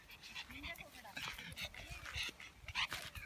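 A dog whimpers and yips softly in short broken sounds close by, mixed with people talking quietly.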